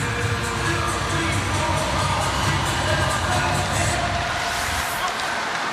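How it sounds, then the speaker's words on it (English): Spectators in an arena at the 2015 IIHF World Championship ice hockey game, Norway versus Belarus, cheer for Norway with a loud, steady, dense roar of crowd noise and shouts that holds throughout. "Look at some of the fans in the building here cheering for Norway."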